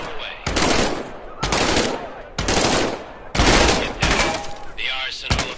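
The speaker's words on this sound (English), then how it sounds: "Reach over your shoulder and grab your M1A1 submachine gun." An M1A1 submachine gun fires in the VR game Medal of Honor: Above and Beyond, loud close bursts of automatic fire, about six separate volleys, each a second or so long, with short gaps between them.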